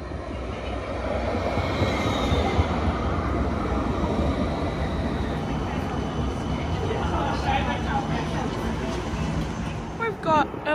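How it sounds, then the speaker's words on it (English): An Airbus 3 light rail set departs Alinga Street with a steady, loud rolling rumble throughout, while a voice talks over it and brief squeals appear near the end. "Sorry, Airbus 3 set number 1, departing Alinga Street service."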